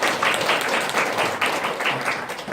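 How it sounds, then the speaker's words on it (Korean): Audience applause at a public citizens' lecture in a hall, a warm, fairly loud burst of many people clapping steadily with slight swells, no voices over it. "여러분 정말 박수 한번 부탁드릴게요"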